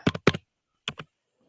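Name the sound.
typing on a computer keyboard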